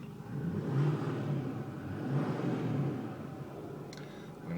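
A modified Ford 6.4 Powerstroke diesel rumbles steadily while driving, its exhaust swelling and easing in two broad surges, heard from inside the truck with no talking.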